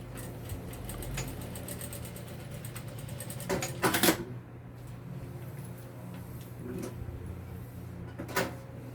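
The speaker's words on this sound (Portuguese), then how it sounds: "vou fazer uma costura nessa parte de trás aqui na parte fixa. Também uma costura reforçada." A sewing machine runs in steady mechanical bursts while stitching a reinforced seam on the fixed back part of a fanny pack, with a constant motor hum, a couple of louder clacks and brief pauses between runs.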